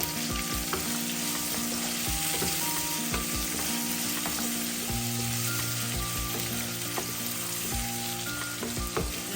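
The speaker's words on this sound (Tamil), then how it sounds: "நல்லா வதக்கணும்" Sri Lankan-style egg curry sautéing in a pan, a steady close sizzle with repeated knocks and scrapes of a spoon stirring the mixture and a faint hum running underneath, and no voices.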